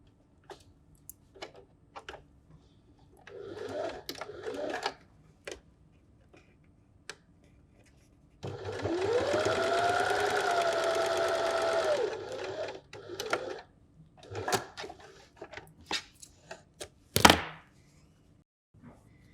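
A sewing machine stitching a fabric pennant, a steady whirring run of about four seconds framed by scattered clicks and handling taps, with a sharp knock near the end.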